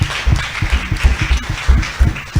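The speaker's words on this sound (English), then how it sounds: "clap for Jesus" A church congregation claps along during a sermon, with steady rhythmic claps and low thumps repeating about three times a second, close and fairly loud throughout.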